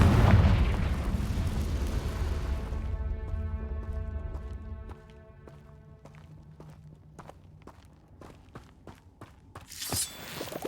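Confringo explosive spell blast in Hogwarts Legacy: a loud fiery burst that rumbles and decays over a few seconds, followed by scattered crackles, footsteps and a sharp crash near the end.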